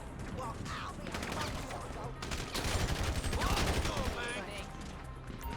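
Rapid SMG gunfire in a GTA V zombie mod video game, dense overlapping bursts of shots running steadily throughout, loud and continuous with a heavier stretch midway.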